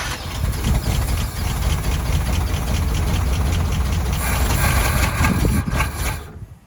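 A 1972 International Scout engine cranks and runs rough during a start attempt, a loud, steady mechanical rumble with rattling and knocking that holds for about six seconds before cutting off abruptly.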